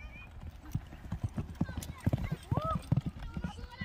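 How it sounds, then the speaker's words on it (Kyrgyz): A large horse walks with crisp, uneven hoof clip-clops close by, and a short whinny rises partway through, while people talk over it. "суудай сүзө турган ат экен да,"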